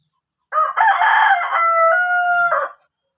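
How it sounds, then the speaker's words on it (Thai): A Nam Nueng gamecock rooster, large, heavy and about nine years old, lets out a single loud, close crow lasting about two seconds, with a rising start and a drawn-out, wavering finish, then silence. "เป็นไก่น้ำหนึ่งนะครับ ไก่น้ำหนึ่งที่อายุ มาก มาก ที่สุดนะครับ"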